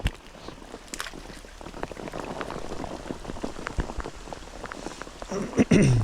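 Steady rain patters on a surface with scattered drops while fishing for crucian carp, and some louder splashing or handling noise near the end.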